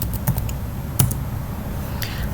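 Computer keyboard keys tapped while typing a terminal command, a few sparse clicks with one sharper Enter keystroke, close and fairly quiet against a steady background hiss.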